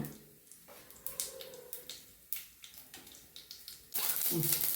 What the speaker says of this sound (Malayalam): കടുക് പൊട്ടിക്കൊണ്ടിരിക്കുന്നു.